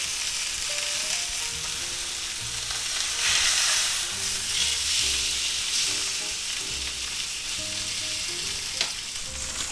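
A thick sous vide London broil steak sears in a hot pan with a steady, close sizzle and frying crackle, broken by a few soft clinks of a utensil. The sizzle holds loud through the whole stretch, and no one speaks.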